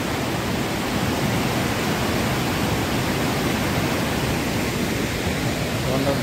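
Water rushing hard beneath a small bridge near a waterfall, a loud, steady broadband roar filling the whole stretch without a break; a faint voice may be buried in the torrent.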